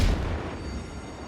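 A warship's guns in a World of Warships naval battle fire once as a deep boom that fades into a rumbling tail.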